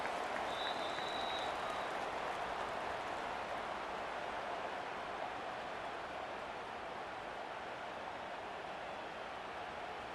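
Steady roar of a stadium crowd in an American football video game, a continuous broadband wash of cheering and noise that holds at an even level with no talk over it.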